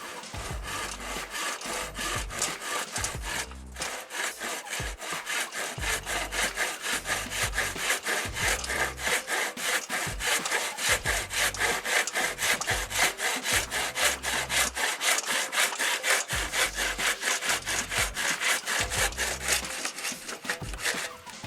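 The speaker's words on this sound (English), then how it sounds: "using a handsaw for the side pieces" Handsaw cutting through wood side pieces during a bathroom renovation, loud close rhythmic back-and-forth strokes with a steady rasping pulse, continuing for about twenty seconds without talk.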